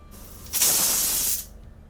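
A pressure cooker whistle vents steam while dal cooks, a loud broadband hiss that bursts on sharply, holds steady for nearly a second, then cuts off, with quieter background noise before and after.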